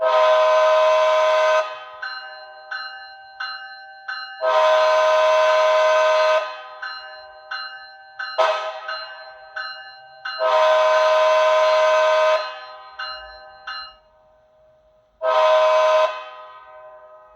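A Bachmann HO scale Siemens Charger model locomotive horn sounds in repeated blasts, long chords alternating with short toots, loud and close, with no talking.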